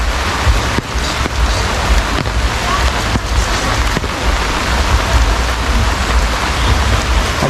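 Heavy rain pattering on an umbrella outdoors at night by a road, a dense, steady loud hiss with occasional sharper drop hits and some wind buffeting the microphone, no clear talk.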